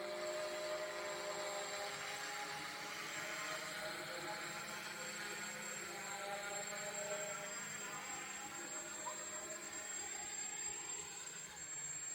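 A steady, continuous whine of a drone flying, its whirring tone holding constant throughout with faint shifts in pitch.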